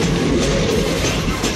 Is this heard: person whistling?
no